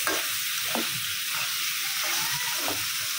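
Tomatoes frying in a spicy masala with eggplant and pointed gourd, a continuous hissing sizzle broken by a few spatula scrapes against the pan, close and without speech.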